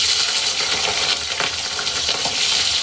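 Black cumin seeds and bay leaves frying in hot oil in a Bengali home kitchen, a loud, dense crackling sizzle with scattered pops, heard up close and without voices.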